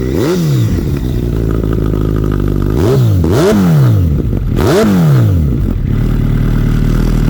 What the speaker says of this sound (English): Very free revving motor.